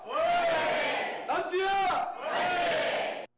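Archery teammates from the Suncheon City Hall team loudly cheer and chant in unison to welcome a returning archer, with three bursts of shouted name-chanting from a close group and a short break between them.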